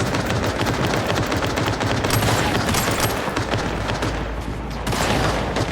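Double-barrel shotgun blasts in Cyberpunk 2077, loud and dense against a busy game soundscape, with bursts of gunfire running throughout.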